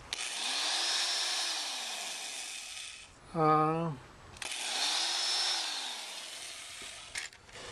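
A 2.5 amp Sears electric drill whirs up to a steady whine and winds down, twice over, with a short buzzing tone between the runs.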